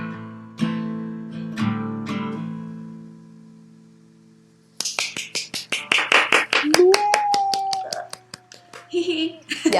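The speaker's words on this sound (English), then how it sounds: "you have to hear the applause" Audience applause breaks out after a sustained musical note, a burst of dense hand clapping that builds and keeps going. Someone sings before it and a voice rises over the clapping.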